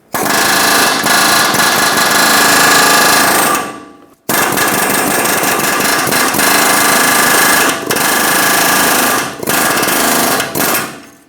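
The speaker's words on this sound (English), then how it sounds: "Now you can do this with a hand chisel and a hammer or an air chisel, create vibrations and drive it up." An air chisel driving a ball joint sleeve up into the suspension of a Ford E-350 van, running as a loud continuous rattling hammer in long bursts with brief pauses, close and alone.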